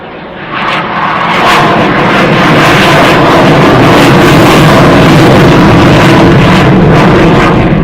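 Italian Air Force jet engines run up at an international air show in Radom, Poland, a very loud, continuous roar that swells within the first second and holds steady and close.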